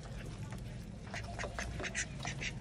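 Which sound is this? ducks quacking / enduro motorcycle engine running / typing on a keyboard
ducks quacking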